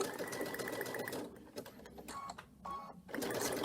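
A sewing machine stitches applique in short bursts, a rapid close whirring that pauses and restarts several times.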